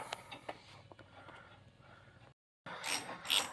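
A ratchet clicks and rattles close by while brake caliper bolts are tightened on a 2015 Chevy 3500 pickup, with a brief silent gap before a louder burst of metallic clicking.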